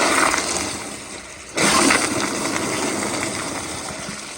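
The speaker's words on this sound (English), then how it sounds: "here is another flush" A 2008 American Standard Madera toilet flushes with a sudden loud rush of water that holds steady, close by, with no talking.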